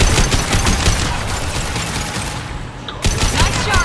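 Sustained gunfire in the video game Mass Effect 2, a loud dense barrage of rapid shots that briefly thins out near the end and then resumes at full force.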